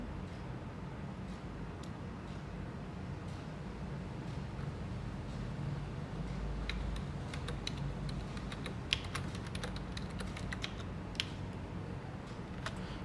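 Rapid, irregular key clicks from a computer keyboard as a username is typed, steady and close for over ten seconds over a low room hum, with no voices.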